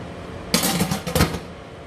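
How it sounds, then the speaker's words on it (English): A lid is set onto a pot of cabbage soup with pork, giving two close metallic clanks and a short rattle, clear and alone. "Let's put a lid on."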